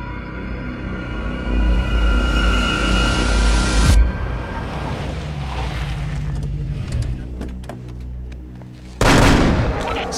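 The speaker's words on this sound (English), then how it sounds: "Seven out of 200 shots fired." Gunfire in a film shootout scene, loud and dense at the start, easing off, then a sharp loud burst near the end, with background rumble throughout.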